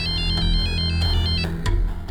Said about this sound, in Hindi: फिर मैंने सविता को फोन किया।